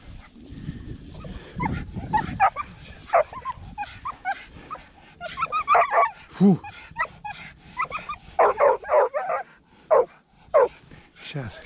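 Hunting dogs bark and whimper out in the field during a hare hunt, with sharp close barks bunching into bursts toward the end and people talking over them.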